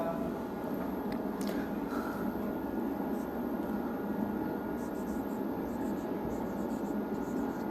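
Pen or pencil writing by hand on paper in a continuous, steady scratch lasting the whole stretch, set against a constant background hiss and hum, with no voices.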